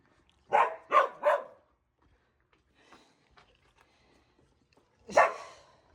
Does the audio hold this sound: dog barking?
yes